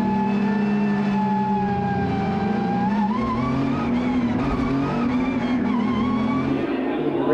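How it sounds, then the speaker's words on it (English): Porsche 992 GT3 Cup cars with flat-six engines at a race start at Road Atlanta, a loud massed roar whose pitch climbs steadily as the field accelerates away, with no talk. "Flat six engine notes rising"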